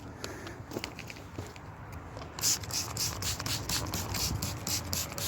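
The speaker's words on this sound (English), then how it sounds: "I'm just going to give them a quick little spray of the garlic spray" Garlic spray misted onto strawberry plants on an allotment, a short run of hissing spray bursts in quick succession after a quieter rustling start, close and fairly soft.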